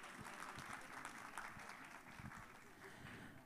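Audience applause at a municipal photography contest award ceremony in Beykoz, steady dense clapping from a crowd filling the whole stretch without a break, at moderate level.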